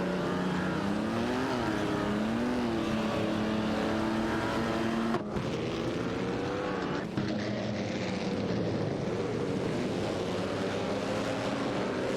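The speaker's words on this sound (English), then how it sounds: "N29 Kia and Itzfarids are in an Auto Union Type D, while Famaka and Polokostinine are driving an Alfa Romeo 12A" Racing engines in an AI racing simulation featuring Auto Union Type D cars: loud, sustained engine whine with rising and falling pitch throughout, and two abrupt gear-shift dips along the way.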